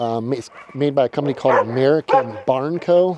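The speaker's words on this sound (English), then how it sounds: "Sorry about the dogs." Dogs bark and yip excitedly nearby on a homestead beside a 20 by 12 shed, mixed with someone talking over them.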